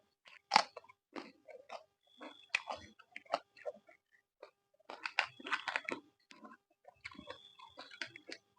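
Thai clams are chewed close up with loud, crisp crunches and bites in irregular bursts, separated by brief quiet gaps.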